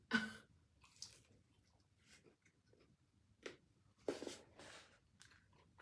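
Crisp, crunchy Japanese fried chicken from Pizza Hut is chewed close up, with several sharp crunching bites and softer chews spaced irregularly in a quiet room.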